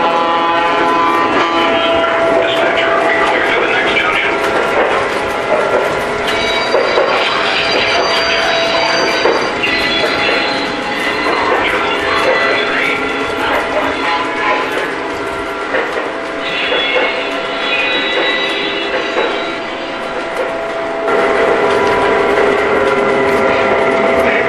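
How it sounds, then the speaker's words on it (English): Lionel Texas Special model train pulled by E units, with a StationSounds diner car playing its sound effects at full volume: continuous mechanical rattling and whirring from the running train, with layered tones and clatter throughout. "run the car with the E units with the sound effects all the way up so you can hear what it sounds like when a train is running"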